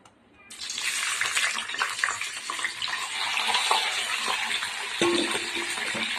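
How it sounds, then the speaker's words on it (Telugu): Cut ivy gourds (dondakaya) dropped into hot oil set off a sudden loud sizzle that keeps crackling and hissing steadily, with a clatter near the end. "ఇలా కట్ చేసుకొని ఇప్పుడు ఆయిల్లో వేసుకుందాము"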